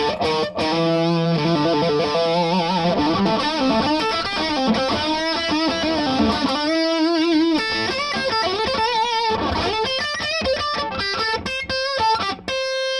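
Dry electric guitar with no delay or reverb plays a steady run of clear single pentatonic notes for about thirteen seconds, each note sounding alone and distinct.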